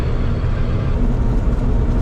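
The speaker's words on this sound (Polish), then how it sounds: "lekko mu wejdziemy na obroty, ale nie jeżdżę na maksa, nie daję mu na maksa gazu" A New Holland TC combine harvester works a rapeseed harvest with its engine raised to moderate revs. It gives a steady, close, heavy low rumble and drone with no talking.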